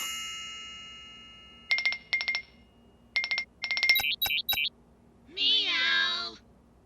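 Several short, bright meow-like calls from cartoon cats in quick bursts, followed by one longer, drawn-out meow, fairly close and clear with no talking.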